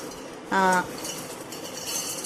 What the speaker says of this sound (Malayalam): അതെല്ലാം ഞാൻ ഈ പാത്രത്തിലേക്ക് ഇടുകയാണ് കേട്ടോ.